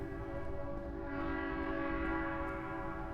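A train rumbles steadily through a tunnel in a horror video game, a sustained low roar with a droning horn-like tone held throughout at constant loudness.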